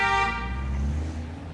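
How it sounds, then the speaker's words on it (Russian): Car horns honk in city traffic, a loud sustained toot that fades into the rumble of nearby vehicles, with no talking. "Здесь очень часто сигналят."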